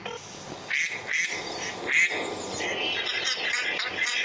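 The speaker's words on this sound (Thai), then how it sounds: "มันจะมีเสียงเป็ดนั่นเอง" Several nasal quacks in quick bursts, fairly close, over a busy background with a hint of voices.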